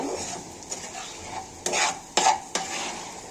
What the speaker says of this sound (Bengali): দেখো এখন এটাকে একদম আমি বেরেস্তা করে ফেলবো। এটাকে আমি একটু নেড়ে ফিরে দিচ্ছি।